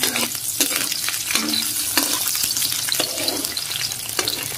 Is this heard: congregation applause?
no